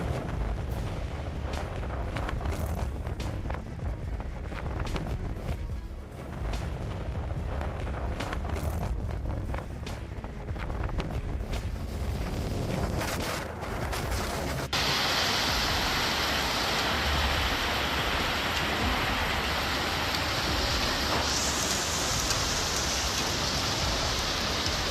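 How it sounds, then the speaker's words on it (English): Heavy rain roars steadily with gusting wind rushing over the microphone, a dense, loud wash of storm noise throughout with no voices. "a trash bin was blown away by the violent winds amid heavy rain and constant howling gusts"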